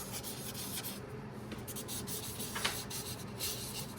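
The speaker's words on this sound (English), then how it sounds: "Maybe some Asemic Writing." A pen scratches asemic writing marks across an art journal page, a faint, continuous close-up rubbing and scraping with small irregular strokes.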